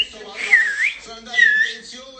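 Someone whistles a short tune of rising and falling notes in two phrases, close and clear, set in a quiet room or car.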